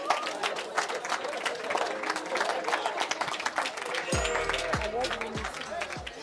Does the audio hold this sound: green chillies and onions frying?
no